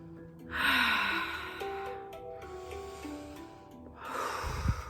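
Two deep breaths taken during a seated yoga practice, each a soft, airy rush of inhale and exhale, with a gentle musical backdrop underneath.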